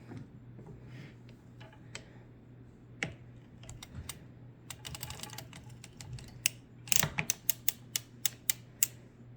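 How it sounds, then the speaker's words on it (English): A circular sock knitting machine being cranked while working a wrapped heel, giving off soft mechanical ticking that builds into a series of sharp, evenly spaced clicks, quiet and close with no talking. "All right, now I'm going to crank."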